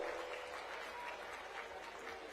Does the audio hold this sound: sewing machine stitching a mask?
no